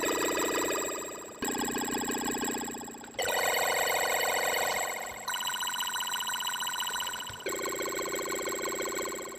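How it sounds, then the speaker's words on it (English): A synthesized phone-ring effect built from a fast arpeggio macro: loud, buzzy, rapidly warbling electronic tones in five back-to-back segments that shift pitch at each change, harsh and chiptune-like, no voices. "that's a pretty funky phone sound effect"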